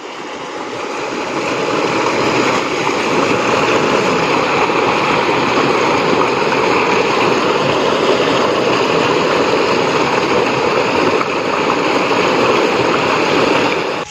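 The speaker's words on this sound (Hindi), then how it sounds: "ये देखो ट्यूबवेल चल रहा है" A village tubewell pumps water into a field channel, producing a loud, continuous gushing roar of falling water that stays steady throughout, close by with no voices.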